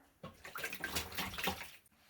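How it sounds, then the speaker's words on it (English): Stained shirt lowered into a tub of water gives a short close splashing and sloshing swirl lasting about a second and a half, alone without talk. "now I'm going to add my shirt that's got the stains to the water"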